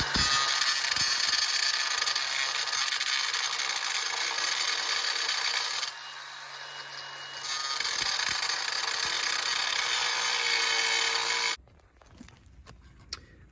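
A cheap angle grinder cuts into a seized nut on a Subaru, a loud continuous abrasive whine that dips briefly mid-cut, then resumes before stopping into a quiet rattle of handling.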